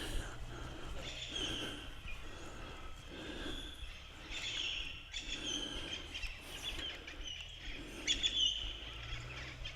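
Songbirds chirp and call from the trees around a lakeside campsite in cool weather, a steady layered chorus of moderate, somewhat distant tweets running throughout.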